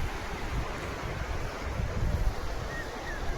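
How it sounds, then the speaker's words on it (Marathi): The Mula River in Ahilyanagar, India, carrying its first floodwater of the season, fills the scene with a broad, continuous rush, steady and fairly loud, with gusty wind noise on the microphone and no voices. "पाणी आलेलं आहे नदीला"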